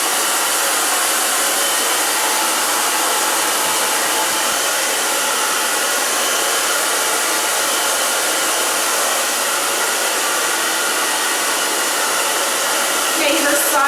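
A hair dryer runs steadily and close by, drying the back of a woman's hair during a haircut, with a constant loud whoosh and no speech.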